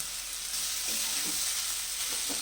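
Garlic paste, chopped tomato and chili fry into a masala over medium heat, with a steady close sizzle and a few soft stirring scrapes. No talking is heard.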